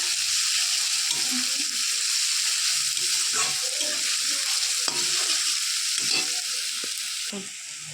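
Onions frying in oil with ginger and garlic for a clam curry, a bright continuous sizzle close by with occasional spoon scrapes and stirring clatter.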